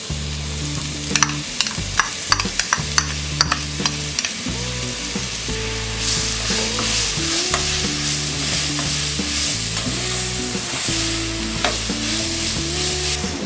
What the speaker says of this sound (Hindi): गाजर को हमने 2 मिनट तक फ्राई कर लिया है।